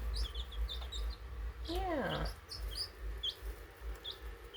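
Five-day-old baby chicks peep in quick, thin, high chirps scattered through the clip. One louder sweeping call rises and falls near the middle. A brief spoken word comes over a steady background hum.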